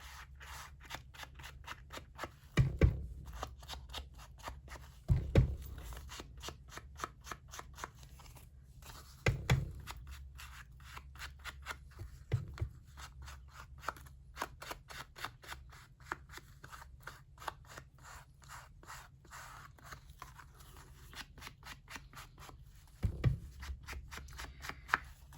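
Scissors snip through a paper craft postcard in a steady run of short, close cuts, with a few sharper louder snips standing out, and no voices.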